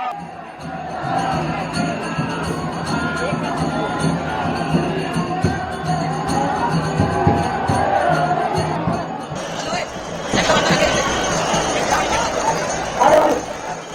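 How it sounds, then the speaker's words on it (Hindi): Dense crowd of Holi devotees in Mathura, a continuous loud roar of chatter and shouting with cheers rising near the end, people calling out close by amid the throng. "भक्तों की भारी भीड़ है।"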